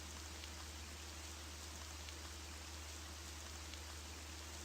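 Steady, soft rain hiss with a low constant hum underneath, looping evenly as ambience in the RPG Maker VX Ace game Geiken, with no voices.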